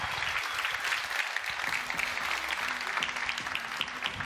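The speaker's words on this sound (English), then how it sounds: "please join me in giving a huge round of applause to these incredible folks" Steady, sustained applause from a conference audience, dense clapping that fills the room at an even level throughout, with faint crowd murmur beneath.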